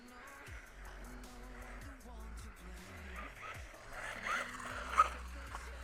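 A RLAARLO XDJK-006 1/14 scale RC buggy brakes as it lands, its small electric motor whining and sweeping in pitch with brief tire scrabble, fairly faint, with a voice talking over it.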